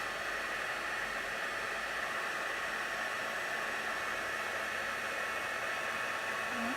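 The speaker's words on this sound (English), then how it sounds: "I'm going to do a quick heat emboss" A heat gun blows steadily while heat embossing powder on a handmade card, giving a continuous, even hiss of rushing air with no voices.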